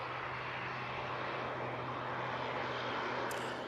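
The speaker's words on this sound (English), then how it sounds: "Lufthansa coming in from Frankfurt using their A320-200." A Lufthansa Airbus A320-200 arriving from Frankfurt at Manchester Airport, a steady broadband engine roar held at an even level throughout, with no voices.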